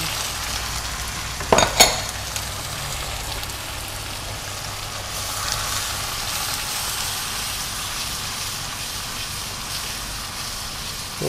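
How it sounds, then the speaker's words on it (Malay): Garlic, ginger and curry leaves stir-fry in hot oil for a dalca curry, giving a steady close sizzle with a couple of sharp utensil clatters early on and no talking. "kita tumis dia sampai naik aroma dia tu"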